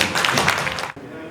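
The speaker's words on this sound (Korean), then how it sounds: "장동택 서구차관님을 뜨거운 박수로 맞이해 주십시오" An audience at a leadership event in Korea applauds to welcome a district official as he takes the stage. The dense, close clapping fills most of the moment, then cuts off sharply and gives way to quiet.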